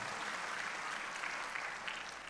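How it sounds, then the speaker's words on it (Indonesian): A church congregation bursts into lively applause during a sermon, a brief dense wash of clapping from many hands, moderately distant. "Berikan tepuk tangan yang meriah untuk Tuhan"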